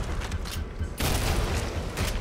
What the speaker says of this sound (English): Get away from me with that shotgun.